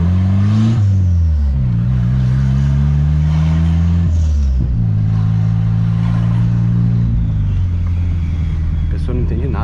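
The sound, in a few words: turbocharged Peugeot car accelerating in neighborhood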